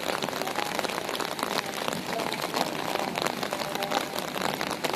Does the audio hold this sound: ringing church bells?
no